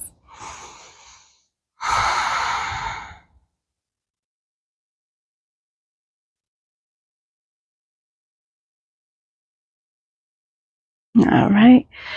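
Deep breathing during a yoga flow for the hips and low back: two close, breathy inhale-exhale sounds at the start, then long silence, and one more strong breath right at the end.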